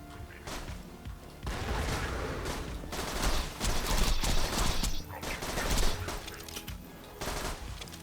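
Rapid gunfire bursts in the Borderlands game as SGT loader robots are shot at, dense and loud, broken by brief gaps over roughly eight seconds.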